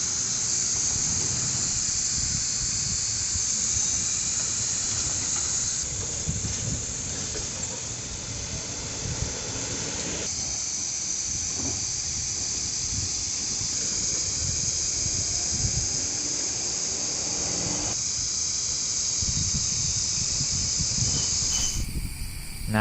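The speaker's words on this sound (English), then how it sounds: "You want to wet the panels first and rinse the dust off as much as you can." A garden hose spray bottle rinses dusty solar panels, giving a steady, close, continuous hiss of spraying water that runs without a break for the whole stretch, with no talking.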